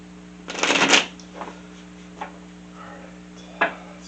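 Tarot cards being shuffled in a close, crisp riffle burst, followed by a few quieter taps and a final snap as the deck is cut, with a faint hum underneath.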